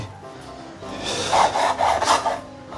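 A knife slices pork into strips on a cutting board for sweet and sour pork, making close, rasping strokes that swell and fade in a few uneven passes.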